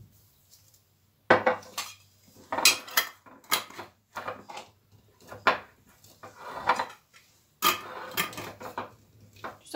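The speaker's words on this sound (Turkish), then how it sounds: "Şimdi kavanozlarımızın kapağını sıkıştıralım." Lids being screwed tight onto glass jars of fish pepper pickles: close, irregular bursts of clinking, clattering and scraping with short pauses between them.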